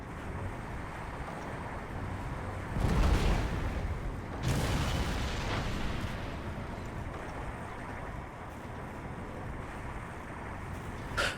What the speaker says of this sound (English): I think another shot from that new cannon, I'm pretty sure it's going to go down